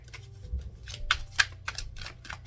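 Quiet, soft riffling of tarot cards being shuffled by hand, a rapid papery flutter with a few crisper snaps, close up and low in level.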